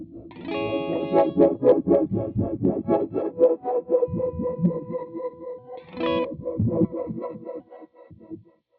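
An electric guitar plays through a delay pedal with the effect dry: a run of picked notes and then a few sustained chords, driven with some grit, loud and close, no voices.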